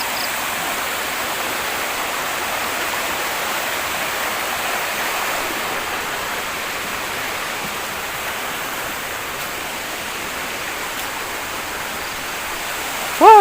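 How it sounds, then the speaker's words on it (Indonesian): A river flowing through dense forest at night, heard as a steady, even rushing of water that stays constant throughout with no voices. "Sungai guys."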